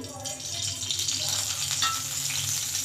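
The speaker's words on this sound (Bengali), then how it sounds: "কড়াইয়ে দিয়ে দিলাম তেল।" Oil heats in a wok with a steady close sizzle and crackle, interrupted by light stirring taps, continuing without talk.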